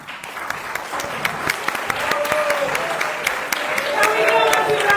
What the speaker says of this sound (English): Can we give us a round of applause for Jeremy?